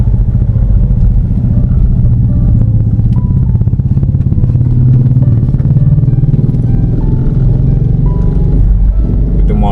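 Motorcycles pass on a quiet town street as a loud, rumbling engine chug with a steady fast rhythm, close to the microphone and continuous, with a little background clatter.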